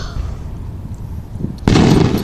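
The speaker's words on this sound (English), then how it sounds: "There was a firework!" Fourth of July fireworks go off with a sudden loud boom after a stretch of quieter background noise, leaving a broad crackling roar.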